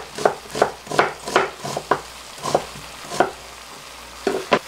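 A sliced medium onion goes into potatoes simmering in a little broth in a pot over low heat, with a string of close, soft clattering scrapes and taps as it is stirred in. No one speaks.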